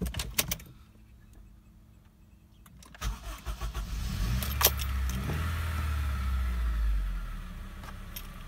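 A car engine cranks over during a battery test, with quiet handling clicks first, then a rhythmic starter churn that catches into a steady running idle, close and moderately loud.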